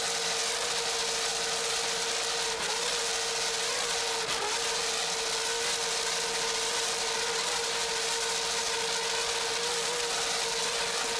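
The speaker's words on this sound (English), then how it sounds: "Just listen to those engines." Offshore racing powerboat engines from the 1993 Flag Ship International Offshore Challenge drone steadily and loudly throughout, a continuous roar with a sustained tonal hum and no talk over it.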